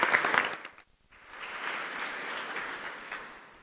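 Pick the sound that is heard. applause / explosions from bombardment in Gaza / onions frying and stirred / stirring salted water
applause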